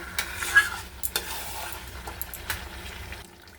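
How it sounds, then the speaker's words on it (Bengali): Chicken with red chilli powder sautés in a pan, giving a close sizzling hiss with a few sharp spatula scrapes and stirring knocks before the sound cuts off abruptly near the end. "ভালো করে আর একটু কষাবো।"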